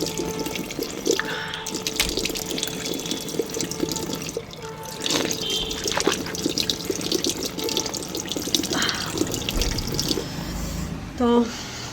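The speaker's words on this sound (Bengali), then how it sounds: "এবার মুখটা ধুয়ে নেব" A running tap splashes steadily into a sink during face washing after brushing teeth at home, with water noise continuing throughout and a voice speaking over it near the end.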